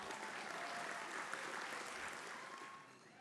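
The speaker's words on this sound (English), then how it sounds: "Big round of applause." A county gun owners' awards gathering in San Diego gives an award winner a round of applause, even, continuous clapping from the crowd at fairly low level, tapering slightly toward the end.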